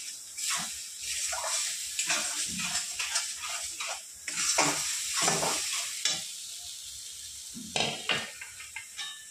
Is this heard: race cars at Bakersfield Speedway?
no